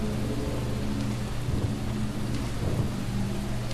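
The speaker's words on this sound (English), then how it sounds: "It's raining!" Steady rain with low rumbling thunder in the video game Deadly Premonition, a dense, even wash of downpour holding throughout, with deeper rolls swelling under it twice and no speech.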